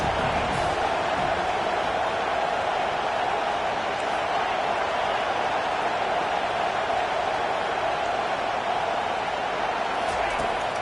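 Steady roar of a large stadium crowd at a Nebraska versus LSU college football game, a dense, continuous wash of many voices throughout with a commentator talking over it.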